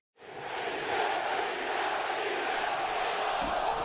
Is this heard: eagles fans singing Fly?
yes